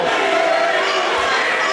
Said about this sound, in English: Overhand club from Becca. Crowd doesn't like it.